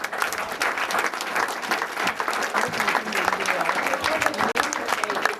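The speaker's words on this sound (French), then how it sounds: "J'aimerais que l'Assemblée donne une bonne main d'acclamation pour notre frère" A church congregation at a French-language service in Montreal applauds steadily and fairly loudly for several seconds, a dense continuous wash of clapping with a few voices mixed in.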